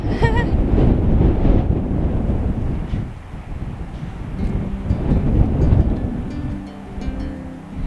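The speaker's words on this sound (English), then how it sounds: "It's super windy" Loud, rumbling wind buffeting the microphone in strong gusts, easing briefly midway before surging again, with a faint voice underneath near the end.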